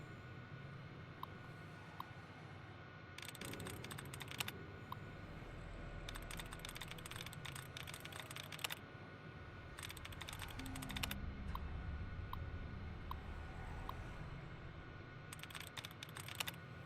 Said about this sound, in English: She's hacking. You can hear the angry typing.